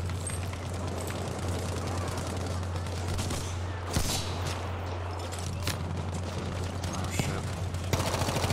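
Gunfire in Battlefield V rattles on steadily beneath a constant low engine-like drone, with a sharper shot cracking out now and then amid a busy, dense battle mix.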